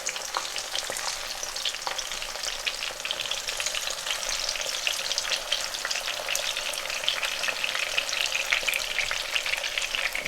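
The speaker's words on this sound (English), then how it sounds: "I'm just going to check aubergine, the side which's been frying" Steady, busy sizzle of aubergine frying in hot oil, crackling continuously throughout at close range with no talking.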